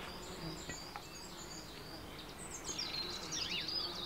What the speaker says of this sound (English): They are eating me, those bugs.